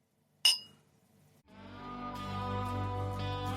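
Two glasses of Kentucky straight bourbon meet in a single sharp clink during a toast, then a longer tonal hum swells and holds underneath.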